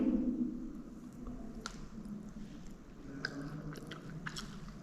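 Someone bites into and chews a dish, mostly biryani, with soft crunches and wet chewing close by, several sharp bite snaps over a low steady background.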